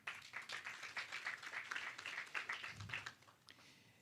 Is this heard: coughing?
no